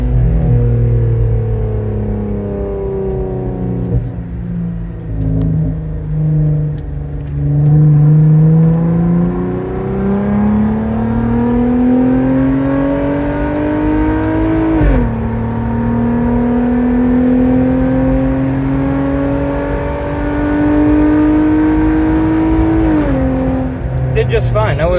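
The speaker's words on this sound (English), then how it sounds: "I'll show us just merging onto a highway and what performance there looks like with this on the back of the Jeep" 3.6-litre Jeep Gladiator towing a load while merging onto a highway, the engine loud and droning from inside the cab as it revs up through the gears with shifts, and a voice talks over it.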